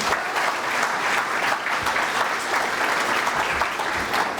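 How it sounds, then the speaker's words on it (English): Audience clapping for a city core team at a State of the City address, a steady, even round of applause from a seated crowd throughout, moderately loud and without talk. "Please give them a round of applause."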